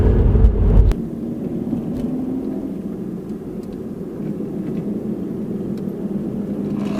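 A car cruises along the winding Devil's Whip road, a steady low engine and road rumble heard from inside, opening with a brief louder thump before settling into an even drone.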